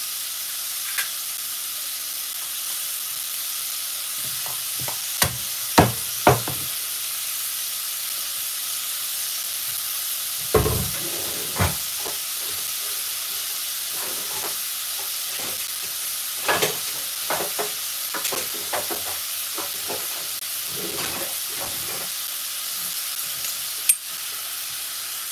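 Garlic frying in a pan, a steady soft sizzle that carries on throughout, broken by scattered clanks and knocks of utensils against the cookware, with no talk.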